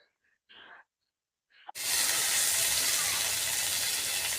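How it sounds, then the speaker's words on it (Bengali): Ginger paste drops into hot oil for a baby corn curry, bursting into a loud, steady sizzle that runs on without a break after a few quiet moments with faint sounds. "আদা বাটাটা লাল লাল করে যে ভেজে নিয়েছি"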